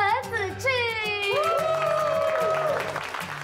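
A crowd welcomes the new Asia region president of a jewelry group with warm applause and a few cheers, running under sustained music and tonal sounds, with a voice briefly audible.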